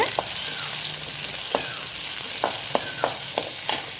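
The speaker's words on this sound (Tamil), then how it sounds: "நான் பொடியாக கட் பண்ண பூண்டு சேர்த்துக்கிறேன் சேர்த்து நல்லா வதக்கி விட்டுருங்க" Finely chopped garlic sautés in a pan with a constant close sizzle, broken by several sharp clicks and scrapes from stirring, about one every half second near the end.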